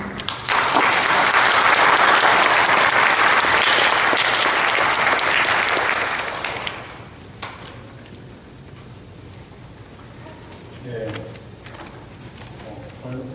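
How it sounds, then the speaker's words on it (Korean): A church congregation at a Korean church in Toledo welcomes a missionary with loud, full applause lasting about seven seconds. It then stops abruptly, leaving a quiet room with faint stray sounds. "우리 선교사님 나오실 때 우리 박수로 또 환영했으면 좋겠습니다"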